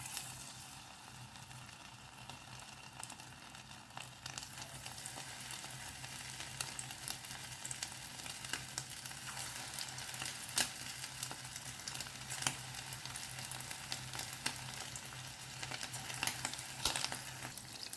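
Squid pieces frying in hot oil over a low flame, a faint, steady crackling sizzle with occasional small pops, heard alone throughout.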